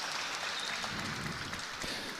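A big crowd at a professional squash semifinal in Boston breaks into sustained applause, a dense even wash of clapping with scattered louder claps throughout.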